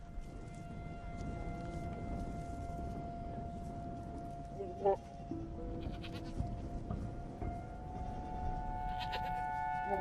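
Sheep and goats bleat on a dry farm near Cape Town, South Africa, with a few calls over steady outdoor noise and a voice talking throughout.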